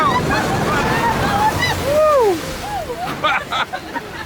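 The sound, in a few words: amphibious duck boat splashing into lake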